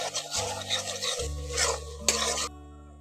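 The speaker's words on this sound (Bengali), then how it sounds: "এই উপকরণগুলো দিয়ে একটু ভালো করে মশলাটাকে আরও কিছুক্ষণ ধরে কষিয়ে নিচ্ছি।" Spice paste with red chilli powder is stirred and fried in a pan, giving soft scraping and rubbing strokes with light sizzle. Sustained musical tones play underneath, and the stirring stops just before the end.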